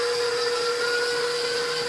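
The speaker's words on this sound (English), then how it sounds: "I'm actually gonna mix my mixer, my butter and my sugar substitute on high" An electric mixer on high speed beating butter with a sugar substitute, a loud, steady motor whine with a constant pitch and no talking.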